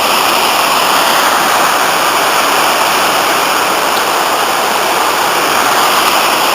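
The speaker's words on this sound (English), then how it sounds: "This is by far the most impressive part of the gorge, the rapids" Loud, unbroken roar of fast rushing water churning through rapids in Aberglaslyn gorge, constant and close with no voices.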